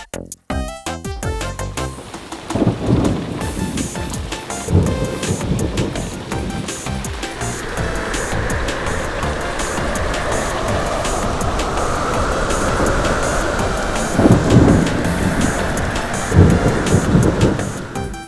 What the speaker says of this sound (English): now it's time for the storm